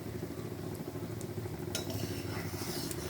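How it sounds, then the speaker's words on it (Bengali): Whole cumin and vegetables sizzle steadily in a hot oiled pan, a constant frying hiss broken by a few clinks and scrapes of stirring. "সুন্দর করে লাল করে ভেজে নিতে হবে"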